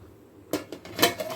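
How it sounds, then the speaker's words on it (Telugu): A metal lid comes off a cooking pot of softened chutney ingredients with a couple of sharp clanks and clinks, close by and brief. "ఇప్పుడు లిడ్ తీసి చూద్దామండి"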